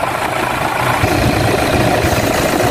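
Toyota D4D diesel engine idling steadily with its aircon magnetic clutch spinning, a loud, continuous, even rumble with no breaks.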